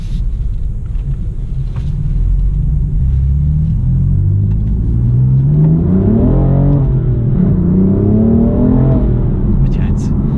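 A turbocharged 2018 BMW M4 Competition coupé engine with manual gearbox rumbles loudly and steadily, then its pitch climbs and falls as it revs up and accelerates, up close.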